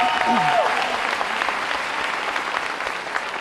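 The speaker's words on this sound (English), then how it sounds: "Let's give him a big round of applause." Sustained audience applause fills a school district convocation hall, a steady dense clapping from a large crowd that holds at even volume throughout.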